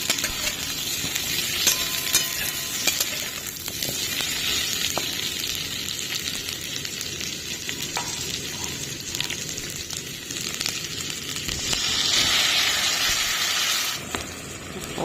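Radish pieces fry in a pan with spices being added, giving a steady close sizzle with faint stirring scrapes throughout, swelling slightly louder near the end.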